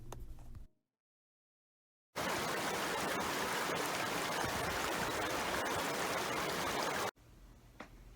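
Creek water rushes in a steady, dense broadband wash for about five seconds, set between a short stretch of silence and quieter ambient sound at either end.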